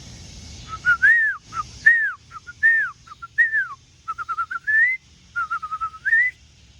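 Someone outdoors whistles a bird-call imitation: a lively run of short rising and falling chirping whistles, some in quick clusters, fairly loud and close over a low background hum.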